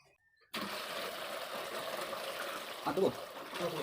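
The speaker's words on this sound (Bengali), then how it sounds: "তো আমি প্রথমে বালতির থেকে নিয়ে এটাকে জলটা আগে পূরণ করে নিই।" Water from a bucket poured into a container: after a brief quiet start a steady close splashing trickle runs continuously, with faint background sounds.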